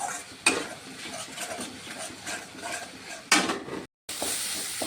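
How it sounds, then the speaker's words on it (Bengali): Spice masala for a prawn and jackfruit curry sautéing in a pan, a steady sizzle with scraping stir strokes and a couple of sharp utensil clatters, close and alone. "এগুলো ভালো করে কষিয়ে নিই।"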